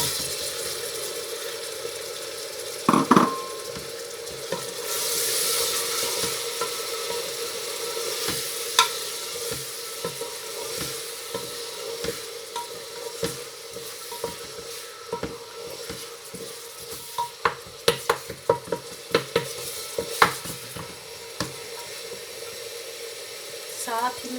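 Lobia masala with tomatoes sizzles and fries in a pan, a steady hiss broken by repeated clattering stirs of a spoon against the metal, close up and continuous.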